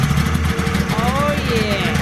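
A 1995 Polaris XLT 600 Special snowmobile engine, dormant for twenty years, catches after a pull start and runs with a rough, uneven, steady rumble close by, with people talking over it.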